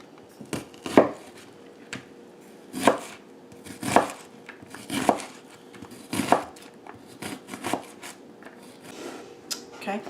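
A knife chops orange bell pepper on a cutting board for chow chow relish, with sharp, close chops landing in irregular bursts about once a second and soft handling noises in between.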